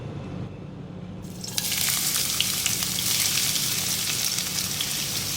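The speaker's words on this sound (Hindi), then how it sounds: "प्याज को मैंने फ्राई कर लिया है" Chopped medium onion sizzles steadily in hot mustard oil in a pan, a loud continuous fry that flares up after a quiet start and holds a dense crackle throughout, with no voices.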